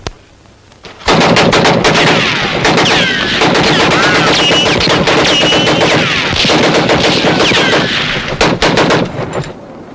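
Rapid rifle gunfire in a Civil War-era western movie battle, loud and dense, bursting in after a brief quiet start and crackling continuously with yelling voices and commotion mixed in.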